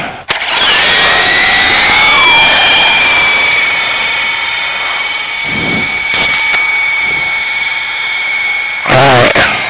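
A Syma S033G remote-control helicopter whines loudly with a steady high-pitched motor and rotor drone that rises as it lifts off outdoors in a light breeze, continuous for most of the stretch before a brief clatter at the end.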